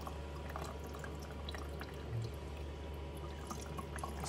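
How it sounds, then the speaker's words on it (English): Isopropyl alcohol used for resin 3D printing is poured from a bottle, leaving the settled resin sludge behind: a faint, steady trickle of liquid with a few light drips over low background hum. "Just carefully pour it off."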